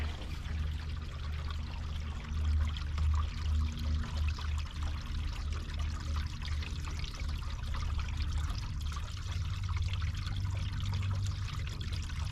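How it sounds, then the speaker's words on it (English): Water pours and trickles steadily through an RV sewer line hose while the tank is flushed, a continuous low rushing flow that holds at an even level throughout, with no talking. "then we're flushing out the sewer line too"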